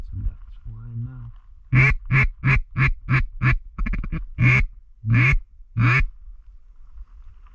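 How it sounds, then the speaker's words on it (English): Ducks quack in flight over open public land in Missouri, a series of about ten loud, evenly spaced honking calls close by, preceded by a lower nasal call, with quiet outdoor background between. "Got some ducks flying now."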